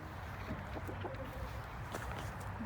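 Faint, scattered clucks from chickens against a low, steady rumble of background noise, with no voices.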